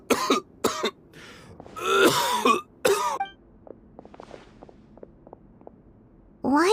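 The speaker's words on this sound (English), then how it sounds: "Why is he coughing so much?" A character in Genshin Impact coughs and clears his throat in several harsh, close bursts, followed by softer scattered footsteps and small sounds, then another cough at the end.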